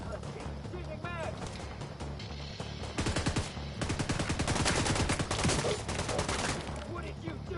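Heavy gunfire in the shooter game Division 2: dense automatic bursts and volleys of rapid shots building from scattered pops into a loud sustained fusillade.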